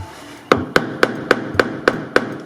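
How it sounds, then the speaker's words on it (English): Metal hammer strikes a screwdriver to loosen a rusty screw set in a fibreglass car body, eight sharp, evenly spaced taps close up with nothing else heard. "you are hammering into fiberglass there, so don't do it too much"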